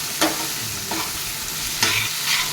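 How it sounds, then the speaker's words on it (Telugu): Freshly made garlic ginger paste frying in a pan, with a steady loud sizzle broken by three or four sharp stirring scrapes. Close and without any talking. "ఇప్పుడు వెల్లుల్లి అల్లం పేస్ట్ వేసుకున్నాము"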